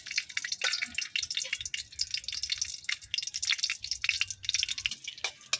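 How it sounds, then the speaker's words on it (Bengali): Dried chilies fry in hot oil in a wok, giving soft, irregular crackles and spits at low volume with no talking. "এখন শুকনো মুচগুলো আমি এই যে বাইজা নিব তেলের মধ্যে"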